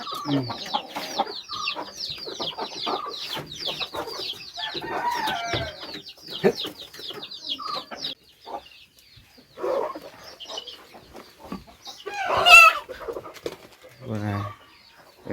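Village hens being fed cluck and chatter busily close by, with repeated short calls and a rooster's cry joining in, while people talk intermittently in the background.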